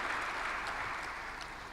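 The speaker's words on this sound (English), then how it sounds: "Merci de l'applaudir." Audience applause in a conference hall at a forum event, a dense continuous wash of clapping from a crowd, fairly steady and slightly fading toward the end.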